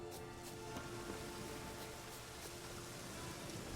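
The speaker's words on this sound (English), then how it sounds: "it's raining in this cave" Steady rain falls in a cave in The Witcher 3, a continuous soft hiss with scattered drip ticks at a constant moderate level and no voices.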